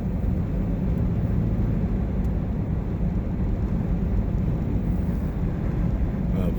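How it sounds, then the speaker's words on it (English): Continuous low rumbling wind buffets the microphone, a loud steady roar with no pauses, like gusts rushing past a moving car on a winter drive along Skyline Boulevard in Duluth. "I think it is just kind of pretty windy going through here"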